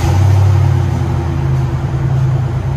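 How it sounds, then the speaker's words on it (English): A 1995 Ford Mustang GT with a 5.0 V8, MSD ignition, cold air intake and Flowmaster Super 10 dual exhaust with X pipe, idling loud and close with a deep steady rumbling burble. "That's a good sounding Mustang right there."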